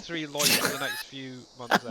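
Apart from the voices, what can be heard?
sneeze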